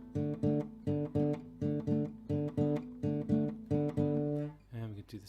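Electric or acoustic guitar in a blues lesson played on just two strings, a repeated rhythmic two-note shuffle figure with steady chugging strums, close and clear, ending on a sustained chord.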